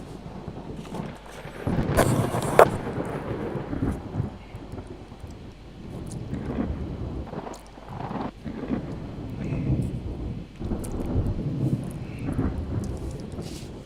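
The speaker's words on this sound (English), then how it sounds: "And I gotta deal with this fucking storm, too." A thunderstorm in the naval strategy game Ultimate Admiral Dreadnoughts brings steady rain and wind noise, with low rolling thunder that swells at intervals and a sharp crack early on, with no talking.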